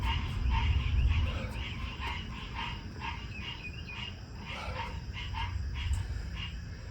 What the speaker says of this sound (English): Got a chorus of frogs here.